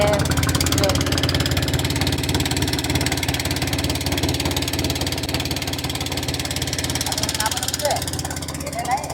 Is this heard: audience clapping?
no